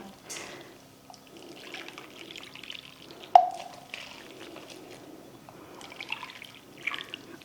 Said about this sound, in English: Then water, 3 cups of water.